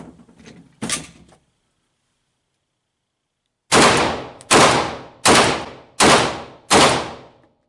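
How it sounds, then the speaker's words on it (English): A 22 TCM double-stack pistol with a 4-inch barrel fires five loud, sharp shots in a steady rhythm, each about three quarters of a second apart, after a couple of fainter knocks and a pause of silence. "First we're going to go off with the 22 TCM 4-inch barrel model, double stack."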